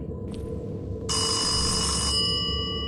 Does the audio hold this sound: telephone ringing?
yes